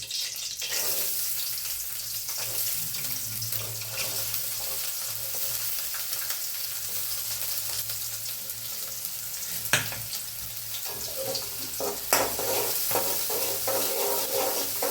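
Onion fries in hot oil for an egg curry, a continuous close sizzle and crackle with a few sharp clicks and stirring scrapes over fifteen seconds.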